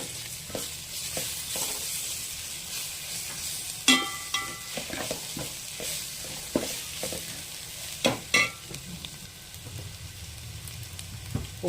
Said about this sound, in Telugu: అల్లం వెల్లుల్లి పేస్ట్ వేస్తున్నానండి.